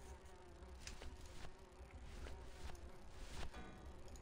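Worker bees buzzing in the video game Grim Fandango Remastered, a steady low drone with faint clicks, heard alone with no talk.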